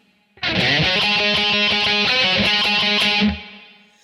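A distorted electric guitar plays a dense, continuous burst of fast picked and ringing notes, loud and close, stopping sharply and fading out.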